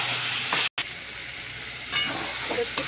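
Spices—salt, turmeric and Kashmiri red chilli powder—stirred in hot oil in a frying pan, giving a steady close sizzle with a few soft scraping strokes and a brief dropout.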